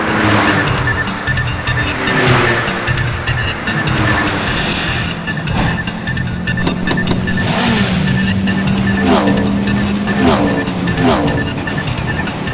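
Race cars roar off at the start of a car race in a TV drama, with loud, continuous engine noise and rising revs in a dense, busy mix that lasts the whole clip.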